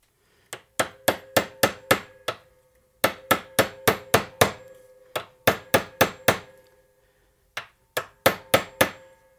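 A 7/16 inch rod is hammered into the end of a pipe nipple for a forge burner, with four groups of sharp, ringing metal blows, about five or six in quick succession each, loud and close with silence between.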